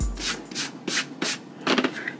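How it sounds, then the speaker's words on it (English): An eraser rubs pencil lines off a paper sewing pattern in quick, soft, scratchy strokes, several short bursts close up and quiet. "Let me erase this"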